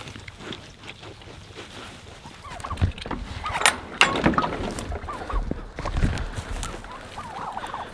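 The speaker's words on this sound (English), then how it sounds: "Now these turkeys, these heritage breed turkeys, we have 6 of them" Six heritage breed turkeys on a farm gobble in rattling bursts, loudest around the middle, set against a low outdoor background of shuffling and rumble.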